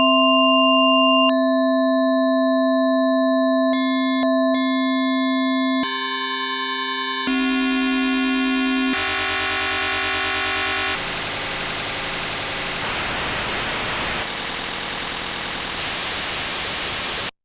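A single held note on the Tracktion BioTek FM synth, stepped through different FM algorithms, changing from a pure sine-like organ tone to buzzier, harmonically rich timbres and finally noisy, metallic textures, sustained and steady with no talking.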